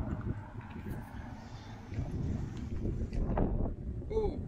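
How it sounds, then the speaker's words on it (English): Strong wind buffets a camera microphone outdoors in Oamaru, giving a low, irregular rumbling roar that swells and fades in gusts, close and uneven. "unfortunately it's got too windy for my new camera"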